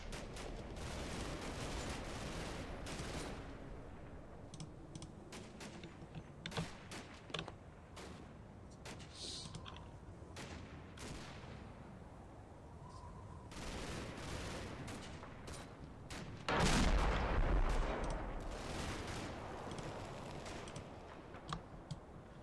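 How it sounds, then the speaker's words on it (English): Video game combat with a 60mm mortar and machine gun firing: dense bursts of automatic gunfire and sharp reports across the whole stretch, moderately loud, with a heavier thumping blast near the end. "We've got a 60mm mortar in there. That MG fire obviously is a little bit off."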